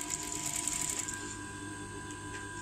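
A sewing machine stitches blouse lining cloth while a prince-cut blouse is tailored, running in a steady, close mechanical whir with a rapid needle rhythm that eases slightly partway through; no one speaks.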